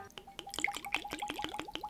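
Sljivovica, a Croatian plum brandy, is poured into a glass in a quick run of close, bright gurgling glugs and drips. The sound is faint and lasts about two seconds, with no talk.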